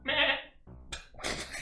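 A goat bleats in Super Noah's Ark 3D, a nasal wavering cry near and clear, followed by a couple of shorter bleats in quick succession.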